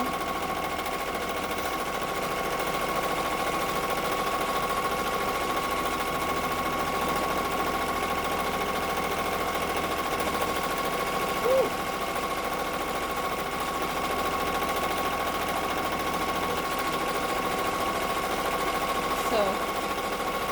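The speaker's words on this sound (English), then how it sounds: "Just doing the wall quilting now." A sewing machine quilting a fabric block, a continuous steady mechanical hum with rapid stitching texture, running without pause for the whole stretch while a person talks at moments.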